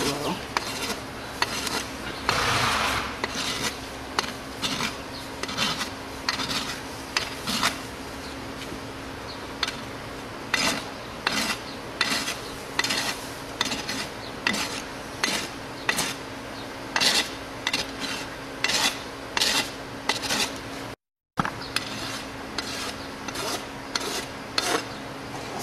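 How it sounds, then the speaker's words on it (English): Steel rasp filing a horse's hoof during a trim, a new rasp giving repeated rough scraping strokes in a steady back-and-forth rhythm, close and fairly loud, with a brief gap near the end. "Hold your rasp up, choke it. This is a new rasp."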